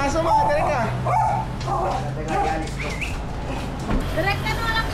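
A dog yips and barks in short bursts at a family gathering in Sta. Lucia, San Miguel, Bulacan, close by and mixed in with people talking throughout, with some whimpering tones between barks.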